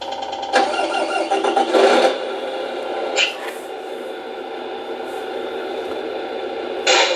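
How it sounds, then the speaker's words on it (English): Electronic engine sound effects from a Tamiya Arocs 8x4 RC tipper truck, with short loud bursts of engine noise over a steady mid-pitched idle hum that ends in a final burst as the engine shuts down. "Engine shutdown sounds"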